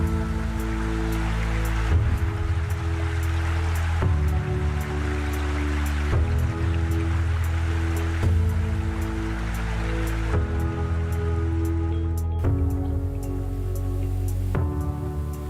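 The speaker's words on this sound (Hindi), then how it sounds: "पहाड़ों के पत्थरों से रिश्ता ये पानी" Water rushes steadily over mountain stones near the village of Ara-Keram outside Ranchi, Jharkhand. The flow is a constant, fairly loud wash with no break and no voices.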